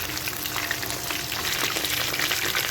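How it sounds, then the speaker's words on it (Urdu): Fish frying in hot oil, dhaba style: a steady, dense sizzle and crackle of bubbling oil, close and fairly loud, continuous throughout with no talking. "دو سے 3 منٹ ہم اور فرائی کریں گے"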